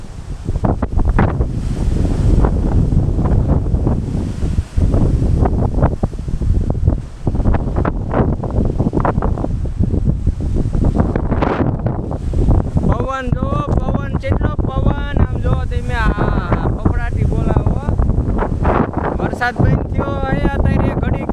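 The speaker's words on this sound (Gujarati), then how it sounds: "આ પવન એટલો ફફડાટથી મારે છે હમણાં વરસાદ શરૂ થઈ છે" Strong wind gusts roar and buffet the microphone throughout, loud and continuous, as rain begins, while a person talks over it.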